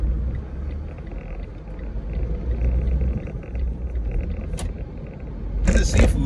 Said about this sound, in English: Let's make this ride on North Freeway.